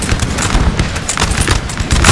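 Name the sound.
explosions and gunfire in the video game Napoleon: Total War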